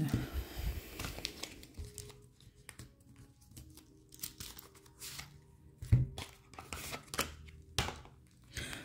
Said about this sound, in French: je vais tirer des cartes du Black Moon